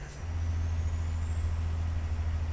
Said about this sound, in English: Right, we're gonna drop a couple gears here.